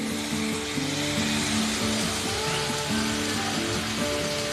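Tomato masala for chole frying in oil until the oil separates, with a steady, even sizzle throughout and no talking over it.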